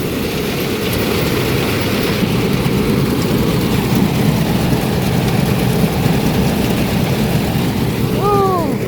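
A rice threshing machine in Laos runs with a constant loud, low engine drone that holds steady for the whole stretch. A few faint higher tones rise near the end.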